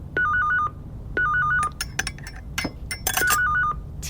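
A telephone at the Radio D studio rings late in the evening in three warbling bursts, clear and fairly close, with other clinks and noises between the rings and no talk.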